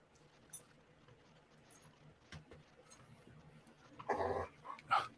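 A dog whimpers and growls in a room during a tabletop game session: two short, fairly loud bursts near the end over a quiet background.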